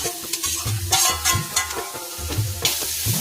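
Chopped onions and coconut pieces sauté in a pan for a Kerala-style breadfruit stew, sizzling close up while a spoon scrapes and stirs in quick, irregular strokes.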